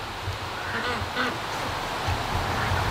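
Ducks give a few scattered quacks and honks amid constant gusting wind noise, faint and somewhat distant, with a hint of a voice in the background.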